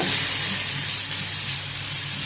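Tomato and onion frying in a pan, a loud, steady sizzle with a constant hiss that holds evenly throughout, with no talking.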